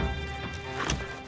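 Horses in the video game Red Dead Redemption 2 Online, with a short burst of hoof clip-clop and a brief whinny, close and fairly loud over a busy game background.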